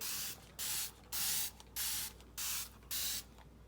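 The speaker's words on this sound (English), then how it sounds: "Just spray it good with your Dawn Power Spray" Six short bursts of hissing spray from a spray bottle of Dawn Power Spray dish soap, in a steady rhythm, close and clear, with brief pauses between each squirt.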